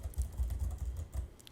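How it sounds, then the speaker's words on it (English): Typing on a laptop keyboard about half a foot from a microphone, a steady run of quiet, rapid key clicks with no voices. "my laptop is like half a foot away from the mic, and I'm just typing things"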